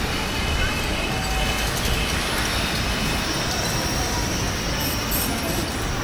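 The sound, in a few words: quiet street traffic of electric scooters in Shanghai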